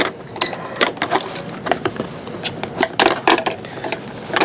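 Sewing machine running with a piping foot, stitching piping down with a rapid, uneven run of clattering needle strokes and short pauses, close and fairly loud.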